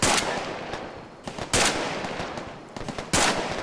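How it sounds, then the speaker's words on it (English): Enemy gunfire in Arma 3, an urban assault mission: three sharp, loud bursts of shots spaced about a second and a half apart, each ringing out and decaying into a noisy background, with no voices. "He's shooting back at me."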